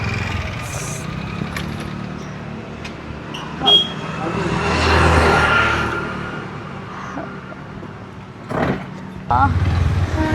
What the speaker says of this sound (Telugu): అక్కడ కార్లు వస్తున్నాయే